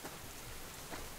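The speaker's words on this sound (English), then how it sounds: "There's the rain." Steady rain falls outdoors, a dense even patter with no distinct drops and no voices.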